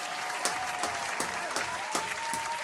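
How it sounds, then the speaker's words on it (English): Steady applause, with a few sharp, louder claps standing out at regular intervals over a dense clapping bed and a faint tone running through it. "I think that deserves a round of applause."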